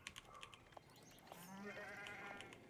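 Sheep bleat in Age of Empires 4, a few soft, wavering calls rising over quiet clicking game sounds, faint and close together.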